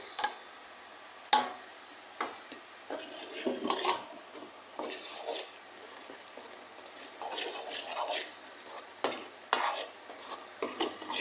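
Flattened rice and peanut powder mixed by hand for laddus, soft irregular scraping and stirring strokes against a dish, fairly quiet, with occasional sharper taps and no speech.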